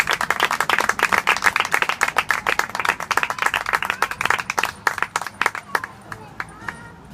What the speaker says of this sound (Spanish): un aplauso para estas personas